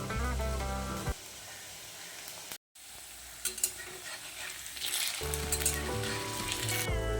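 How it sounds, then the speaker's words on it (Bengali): Potatoes fry in mustard oil in a wok, a continuous crackling sizzle with bursts of spattering, a brief cut partway through and tonal music at the start and end. "এবার গ্যাসের মধ্যে একটা কড়াই বসিয়ে 3 টেবিল চামচ পরিমাণে সর্ষের তেল দিয়েছি। দিয়ে আমি আলুগুলোকে আগে একটু ভেজে নেব।"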